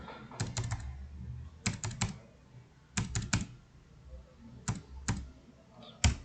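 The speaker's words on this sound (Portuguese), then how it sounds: "Então, eu vou digitar aqui, ó." Typing on a computer keyboard, close and clear, in short clusters of quick key clicks separated by brief pauses, several bursts of two to four strokes each with a faint background hum and no voices.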